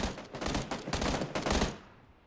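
Rapid bursts of automatic gunfire from PlayerUnknown's Battlegrounds, loud and close, crackling in several dense volleys before trailing off into a short decay.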